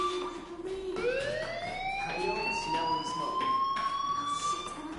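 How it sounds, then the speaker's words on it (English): A fire alarm siren in the video game Life is Strange wails, rising sharply and holding a loud, steady electronic tone over faint background sounds. "do you hear that fire alarm?"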